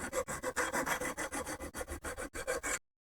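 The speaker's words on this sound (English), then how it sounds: "file it a little bit now, just to get off any rough edges" Rhythmic rasping strokes of a file smoothing rough metal edges on a mirror mount for a John Deere 1025R tractor, about a dozen steady back-and-forth passes, close and fairly loud, with no talking.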